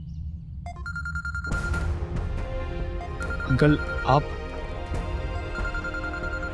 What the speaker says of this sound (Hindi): यार अंकल की कॉल आ रही है मेरे पास।